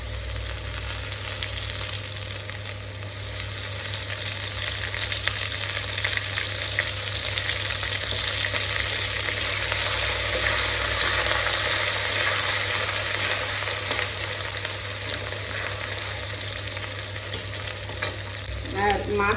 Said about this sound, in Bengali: তো এখন আমি দিয়ে দেবো এই যে হাতে করে আদা বাটাটা